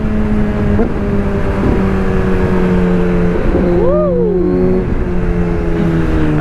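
An inline-four motorcycle rides through traffic, its engine droning steadily and rising into a brief rev with crackling exhaust pops, loud and close over rushing wind.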